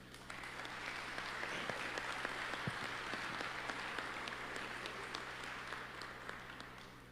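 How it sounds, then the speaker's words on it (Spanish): An audience at a formal public lecture applauds to welcome the State Attorney General, with dense, steady clapping that fills the hall evenly for several seconds, no talking. "Recibamos con un aplauso al señor Procurador General del Estado."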